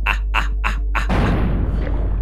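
A loud, booming shotgun blast in the video game Buckshot Roulette with a long decaying rumble, following a few short rhythmic electronic notes.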